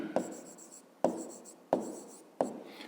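A pen writes out a math expression by hand in four short scratchy strokes, each starting with a sharp tap and fading, evenly spaced and close with no talking.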